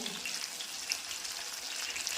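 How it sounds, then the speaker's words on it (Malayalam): Steady frying hiss with a broadband crackle throughout as jackfruit rind fritters fry in a little oil, close and fairly quiet, with no talking. "കുറച്ച് ഇതുപോലെ നമുക്ക് വറുത്തെടുക്കാം."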